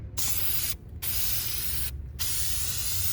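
PlastiDip remover sprays from a nozzle in three loud, steady hissing bursts separated by short pauses, close up with no talking.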